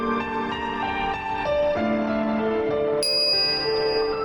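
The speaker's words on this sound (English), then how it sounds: "I'm greeted by the chiming of a microwave oven." Steins;Gate game scene with a microwave oven chime: a sustained bright tonal ringing with layered bell-like notes that shift pitch and rise sharply near the end, with no talk.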